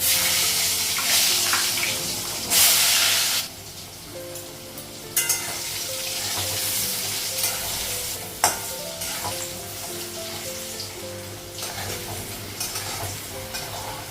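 Potatoes frying in oil with turmeric in a kadai (wok) in a home kitchen give a steady, fairly loud sizzle with occasional scraping stir strokes and brief bursts of louder spitting throughout.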